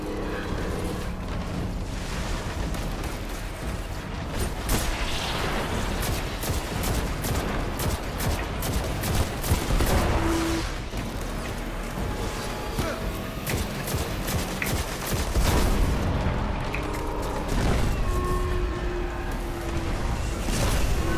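Dense, continuous gunfire and explosions from a Destiny-style shooter firefight against Dregs and a SIVA-enhanced walker, with repeated bursts and blasts throughout while players talk over the action.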